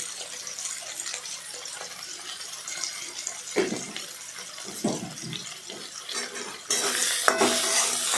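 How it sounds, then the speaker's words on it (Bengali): Tomatoes frying with salt in a pot, a low sizzle broken by clattering stirs and scrapes of a utensil against metal, with a louder hissing rush near the end. "নুন দিয়ে ভালো করে ভাজলাম"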